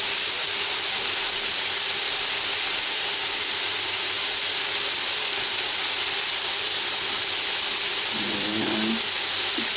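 Bacon rashers sizzling and spitting in a pan, a loud continuous hiss with crackles, constant throughout, with a brief low clatter near the end.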